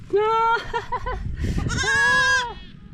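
Goats call out close by in a rural yard, a few sharp quavering bleats with a longer wavering cry near the end, one layered over another, with faint background noise between.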